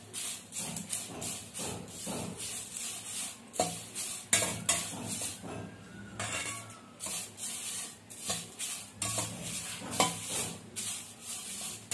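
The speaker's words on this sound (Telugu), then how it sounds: "త్వరగానే వేగిపోతుంది, ఎందుకంటే ఆల్రెడీ ఆరిన కరివేపాకు కాబట్టి" Dried curry leaves stirred in a pan, with scraping and clinking of a utensil against metal repeating through the clip over a soft sizzle; no talk.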